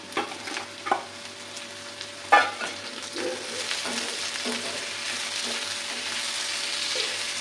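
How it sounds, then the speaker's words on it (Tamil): Elephant foot yam and onions being sautéed in hot oil, a soft continuous sizzle broken by a few louder clinks and scrapes of stirring near the start. "இதை கொஞ்சம் லைட்டாக அப்படியே வதக்கிக்கலாம்."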